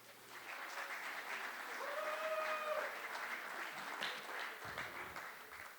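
Sustained audience applause fills a university State of the University Address hall, a broad steady wash of clapping from a large crowd, fairly loud and continuous, with faint voices mixed in.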